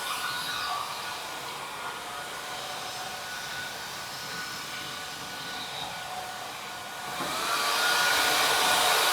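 A Numatic (NaceCare) 244 NX floor scrubber hums with a steady motor whine and brush noise, close and continuous, rising louder near the end.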